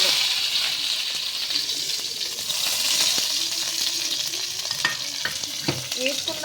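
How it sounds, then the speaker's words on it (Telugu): Onions fry in ghee and oil in a pot for chicken biryani, giving a steady close sizzle with occasional scraping and clinks of a stirring spoon. "వేసుకున్నాక అవి కొంచెం ఫ్రై అవుతాయి"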